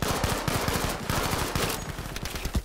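Rapid automatic gunfire in the video game Battlefield V, dense bursts of shots rattling in quick succession, loud and close, with sustained background noise throughout.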